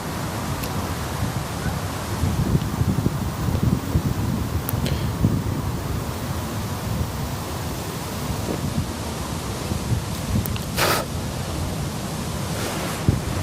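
Wind buffets a microphone outdoors during fishing, a steady loud rumbling roar filling the whole stretch with faint rustling and a few brief higher bursts over it.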